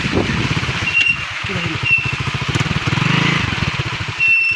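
A small 125cc motorcycle engine putters nearby with a fast, pulsing idle, its rhythm rising and falling slightly, while wind and faint background noise mix in.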